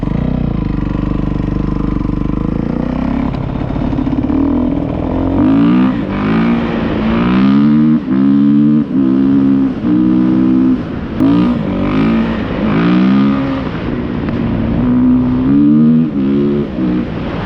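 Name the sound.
Kawasaki KX 450 dirt bike engine revving, testing fourth gear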